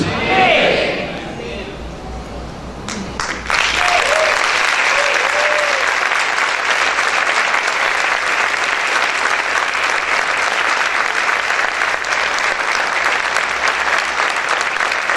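A church congregation bursts into strong applause for Christ during a sermon; after a brief stretch with a voice and a sharp knock, loud dense clapping fills the rest, with voices calling out within it.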